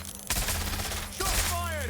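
Video game gunfire during a pursuit in Watch Dogs: Legion, a loud burst of shots breaking out suddenly over a noisy background, followed by more crackling fire.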